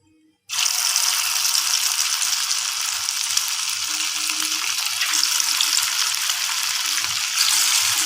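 Chicken pieces for pakora sizzle and fry steadily in hot oil, a dense continuous crackle that starts abruptly after a brief silence and stays loud and even throughout.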